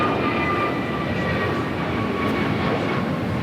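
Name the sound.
Virgin Atlantic Airbus A350-1000 taxiing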